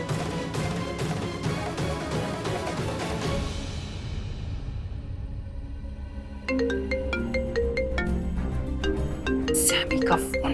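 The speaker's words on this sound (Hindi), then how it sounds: "सैमी का फोन।" A phone ringtone plays during a Hindi television drama scene, a melodic tone pattern that starts after a few seconds of dramatic music and repeats steadily at moderate loudness.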